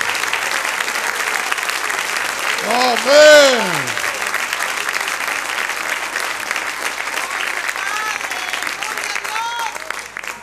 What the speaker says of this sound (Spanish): Un aplauso a esto, hermano.